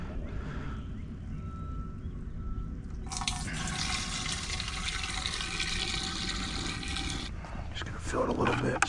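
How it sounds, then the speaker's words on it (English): A stirred liquid mixture is poured from a bucket in one steady, splashing gush lasting about four seconds, loud and close, with quieter handling sounds before it and a brief voice near the end. "I'm stirring it up really good. And I'm gonna pour it in there right away."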